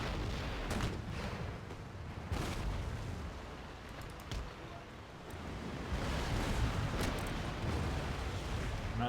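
Distant cannon fire booms repeatedly through a naval battle in Empire: Total War, rumbling under constant wind and wave noise, with irregular heavy thuds spread across the sea.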